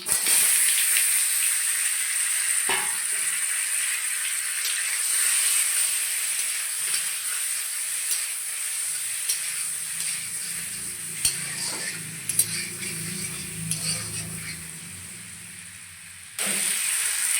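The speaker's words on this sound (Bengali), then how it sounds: "আমগুলো দিয়ে দেবো" Mango pieces sizzle and hiss loudly in hot oil with dried red chillies and panch phoron in a kadai for Bengali mango chutney, a strong steam-like hiss that slowly fades, with a few clinks from stirring.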